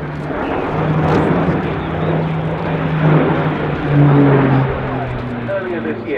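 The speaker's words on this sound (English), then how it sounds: "Quite a fast aircraft given the size and the fact that it is nevertheless a turboprop aircraft." An Airbus Defence and Space A400M Atlas four-engine turboprop airlifter performs at an air display, its droning propeller hum with steady low tones sustained at moderate distance under a commentator's voice.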